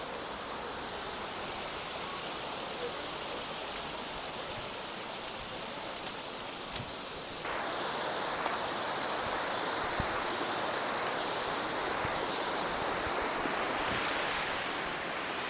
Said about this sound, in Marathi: हा हे वॉटरफॉल आंबोलीचा